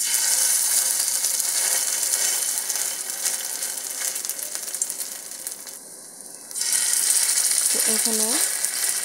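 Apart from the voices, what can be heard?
grass pea lentil fritters frying in oil in a pan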